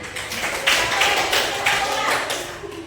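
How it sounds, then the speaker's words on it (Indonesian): Young children in a classroom clap their hands in a short rhythmic burst, crisp, close claps repeating in an even pattern with faint voices beneath. "Pintar tepuk tangan."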